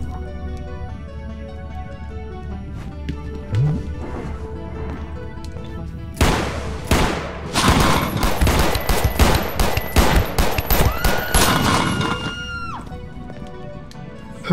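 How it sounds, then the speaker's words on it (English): A cap gun in the Space Station 14 video game fires a rapid, loud string of sharp cracks in a dense cluster after a quieter stretch of background music, with no talk over it. "It was a cap gun."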